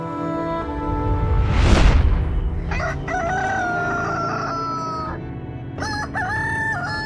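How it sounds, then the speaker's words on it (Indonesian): A loud rooster crows twice in succession, long wavering calls following a rushing whoosh, with farmyard ambience behind. "Bunyi suara yang berkokok."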